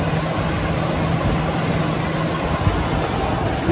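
The V10 engine of a 2014 Ford F550 truck runs at a steady idle, a continuous low rumble with broad mechanical noise, close and unbroken, with no voices.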